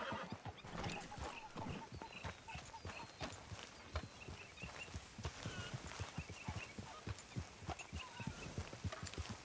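Steady clip-clop of horse hooves at a walking pace with a horse's neigh, over a continuous background of ambient sound, in the video game Red Dead Redemption 2.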